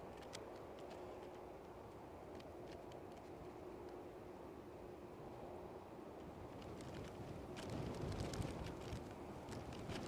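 Strong gusty wind at Edinburgh airport gives a steady, faint low roar with rustling buffeting that grows rougher and louder toward the end.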